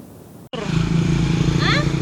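A motorcycle on a village road by a collapsed old bridge in Negeri Waai, a steady loud engine drone close by after a brief gap, with faint voices underneath.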